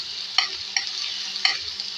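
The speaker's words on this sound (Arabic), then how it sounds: "نحمر بس البصلاية كده ونرجع له" Onion frying in a pan of oil mixed with vegetable ghee, a steady bright sizzle with three sharp stirring clacks from a utensil.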